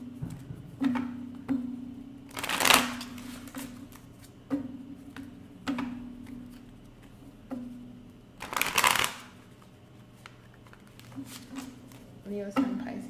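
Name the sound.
shuffling tarot cards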